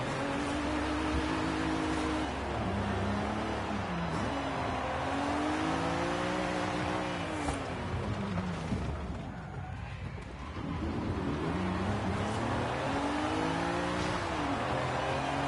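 Audi car engine in a racing video game, a continuous droning note that climbs and falls through repeated rev sweeps and gear changes, dipping briefly near the middle before pulling strongly again.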